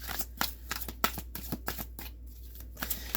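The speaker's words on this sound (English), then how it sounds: "Let me give it a few more shuffles and we'll start." Tarot cards shuffled by hand in a quiet room, a quick series of soft, papery riffles and taps, fairly faint and close, with a low steady hum beneath.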